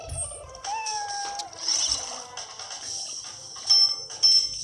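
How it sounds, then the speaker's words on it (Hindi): A dirty-looking cat meows several times, close and fairly loud, with rising and falling cries over a quiet room, followed by a few shorter calls near the end. "बिल्ली को देखो कितनी गंदी सी है"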